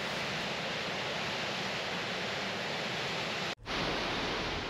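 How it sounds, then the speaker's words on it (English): Upper Yosemite Falls roars as a steady, dense wash of falling water heard from the top of the trail, broadband and constant, with a brief dropout near the end before resuming. "This is the top of Upper Yosemite Falls, end of the trail."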